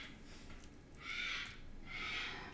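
A pet bird calls twice inside a room, two soft hooting or cooing notes about a second apart, faint and somewhat distant.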